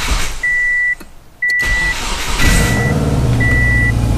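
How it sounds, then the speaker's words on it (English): A Subaru engine, just after its ECU was reflashed, starts up after a few chime-like dash beeps: the starter cranks briefly, then the engine catches and settles into a close, steady idle with no talking. "Just to make sure I didn't brick my ECU, I'm gonna go ahead and start my car."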